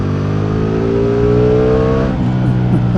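A 2025 Ducati Multistrada V4 S motorcycle accelerates hard on an open road, its V4 engine rising through the revs in a loud, close, continuous roar with wind rush and no talking.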